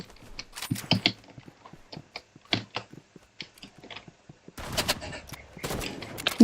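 Shotgun fire in the video game Rivals during a 3v3 match, sharp irregular shots popping in quick succession, growing denser and louder toward the end.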